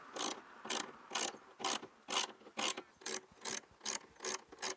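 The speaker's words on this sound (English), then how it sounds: "Then you can take your 1/4 inch socket and do up both of these hose clamps." A 1/4 inch socket ratchet tightens hose clamps on extended differential breathers for a Toyota Landcruiser 100 Series, about ten evenly spaced rasping clicks in a steady rhythm, close and clear without talk.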